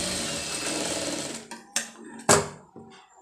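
A sewing machine stitches piping between two fabric pieces laid good side to good side, running in one continuous whirring burst, then stopping for several short separate stitches.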